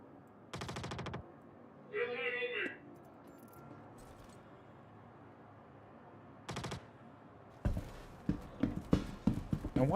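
Bursts of rapid automatic gunfire in Star Citizen, loud and sharp, come in short volleys separated by pauses, ending in a ragged stutter of shots, with a brief spoken voice between them.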